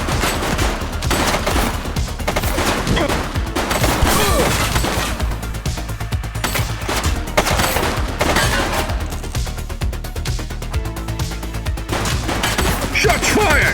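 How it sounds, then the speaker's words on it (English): Rapid gunfire bursts from the police video game The Precinct, loud and continuous, with crashing impacts layered over a dense, busy mix and occasional shouted voices. "Shots fired!"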